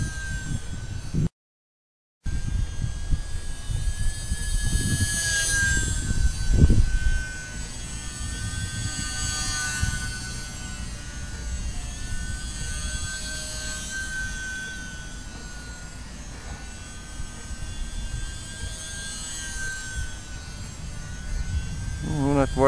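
An E-Flite UMX Pitts S-1S small electric RC biplane flies indoors in a living room, its motor giving a steady thin whine that swells and fades as it passes. Someone talks intermittently over it.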